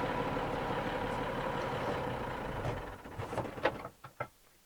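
Unimog truck engine running while driving, a steady low rumbling drone for most of the stretch, then fading into a few sharp knocks and clunks near the end.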